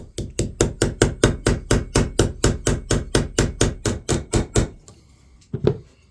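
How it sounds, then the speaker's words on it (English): Rapid, evenly spaced hammer blows peen over the pins on a vintage knife, about twenty sharp metallic taps in a steady rhythm, then a pause and one last lighter strike. "Let's trim these down and peen them over, right?"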